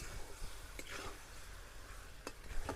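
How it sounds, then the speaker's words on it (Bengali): Mutton fat stir-fried in a pan for a rice dish, with a soft continuous sizzle and a few scraping stirs of a spatula, fairly quiet. "এবার চর্বি দেওয়ার পর চর্বিগুলাকে কিন্তু বেশ খানিকক্ষণ ধরে কষিয়ে নিব।"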